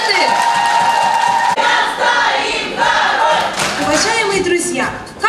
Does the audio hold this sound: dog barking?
no